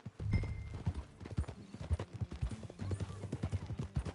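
Horse hooves in the video game Red Dead Redemption 2 clip-clop in an uneven trot close by, steady for several seconds, with a low hum underneath and a brief whinny-like tone.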